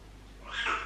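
A house cat lets out a single short meow, close and clear, rising in the second half of a quiet indoor moment.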